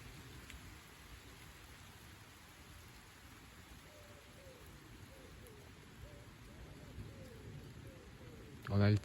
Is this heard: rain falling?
yes